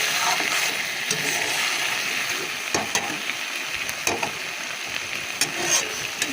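Spice paste being fried and stirred in a pan for a bottle gourd dish, a steady close sizzle with occasional scraping clicks and stirring knocks, no voices.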